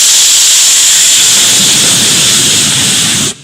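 A loud, steady steam release hisses continuously as a sound effect opening a radio call-in show segment, then cuts off abruptly at the end.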